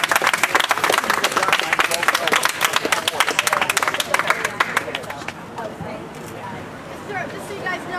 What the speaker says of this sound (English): Give everyone a round of applause to yourselves.